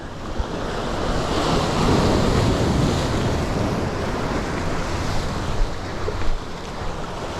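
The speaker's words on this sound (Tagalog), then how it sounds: "Dala lakas ng alon." Ocean waves crash against rocks and wash back in a continuous loud roar, with wind buffeting the microphone and a couple of sharper splashes near the end.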